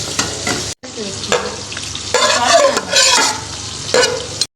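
Sliced onions sizzle in hot oil while a spoon stirs and lifts them out, giving bursts of crackling frying and scraping with brief pauses between strokes.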